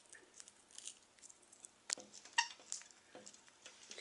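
A pet budgie named Blueberry gulps a spinach leaf too fast, giving off faint, scattered clicking and pecking sounds with a couple of sharper near ticks, quiet and close with no talking.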